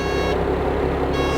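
Air pressure warning alarm on a Komatsu 825A-2 motor grader, a steady buzzing tone sounding continuously over the running engine's low rumble, close and fairly loud, with no talking.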